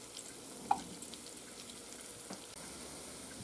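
Wild mushrooms frying in a small pan, a steady soft sizzle with a brief stirring clink near the start, close and fairly quiet, no talk.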